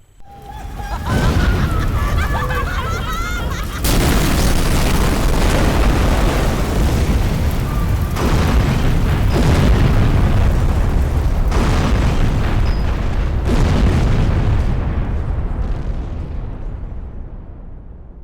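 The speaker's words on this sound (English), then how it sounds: "the boiler will explode, and the entire building blows up" In the horror game White Day, a boiler explodes and the whole building blows up in a loud, sustained roar of blasts and crashing debris. It stays dense for over ten seconds, then fades out.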